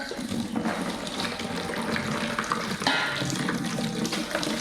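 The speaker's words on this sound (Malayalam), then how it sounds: "ഇതൊന്ന് കഴുകണം. ഞാനൊന്ന് കഴുകട്ടെ." Curry leaves are washed under a running tap, a continuous close rush of splashing water with small shifts as the leaves are moved in the stream.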